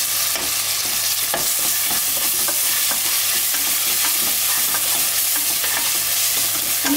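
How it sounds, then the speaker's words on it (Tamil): Ginger garlic paste sautéing in a pan, a loud, close, continuous sizzle broken by frequent scrapes and taps of a spoon stirring through it, with no talking. "இஞ்சி பூண்டு பேஸ்ட்டு சேர்த்துட்டு நல்லா வதக்கி விட்டுக்கலாம்."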